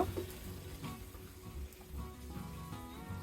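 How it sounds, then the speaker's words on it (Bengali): Soft, steady frying hiss with faint stirring scrapes as ginger garlic paste cooks with onions in a pan for a prawn dopeyaza, quiet and close with no voices. "আদা রসুন বাটা আমি ভুনে নেব"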